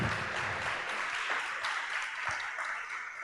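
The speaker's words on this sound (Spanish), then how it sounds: "dile palmas al Señor por eso" A congregation at a church sermon claps for the Lord, a moderate spread of clapping that fills the space and slowly thins out, with a faint voice or two underneath.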